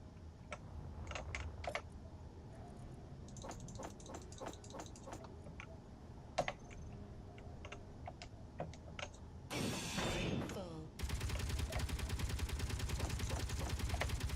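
Gatling turret in the video game Space Engineers firing faint scattered short bursts far off, then a loud sustained rapid stream of rounds toward the end.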